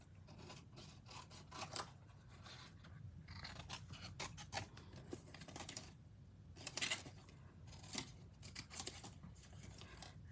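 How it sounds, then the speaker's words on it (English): A pair of scissors cuts through paper-like craft material in quiet, close snips and rasping slices, repeated in irregular bursts with short pauses between. "I'm just gonna use a pair of scissors."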